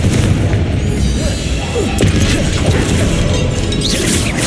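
A fiery Confringo spell blast bursts in a Hogwarts Legacy duel, a loud booming crash followed by crackling debris and combat clatter, close and dense with no pauses.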